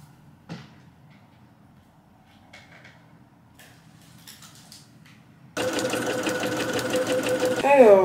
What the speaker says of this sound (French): Et maintenant on va pouvoir coudre les poches entre elles